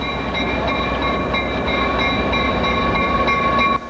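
A passenger train rolls steadily along the rails with a loud, continuous rumble, faint rhythmic wheel clatter and a high steady whine, close by, with no voices.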